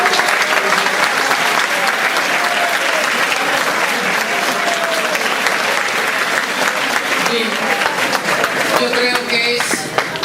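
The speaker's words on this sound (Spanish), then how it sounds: "yo creo que no podríamos cansarnos de aplaudir y felicitar al señor Rodrigo Monge." Sustained, loud audience applause fills the room at a cultural event, a dense, even roar of clapping hands that continues throughout with some voices mixed in.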